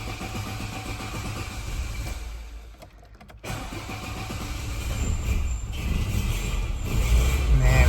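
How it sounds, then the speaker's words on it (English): A 1990 Citroen BX14TE on choke cranks and catches after a brief pause, then settles into a steady, slightly uneven idle that grows a little louder toward the end. "We just had too much choke and then not enough. So apologies for that. But once it's going, ticks over nice."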